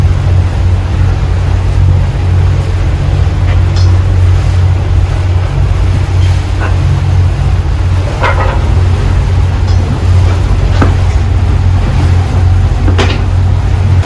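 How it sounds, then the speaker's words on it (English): Steady ocean waves wash against a sailing boat with constant wind rumbling over the microphone, loud and continuous with occasional splashes. "even with these waves"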